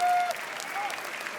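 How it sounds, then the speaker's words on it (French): Steady clapping from an audience at the Cannes Film Festival red carpet, moderately loud and continuous, with a faint high tone at the start. "Des applaudissements pour Alden Ehrenreich."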